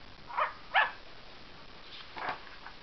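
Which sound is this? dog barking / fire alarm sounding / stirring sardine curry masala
dog barking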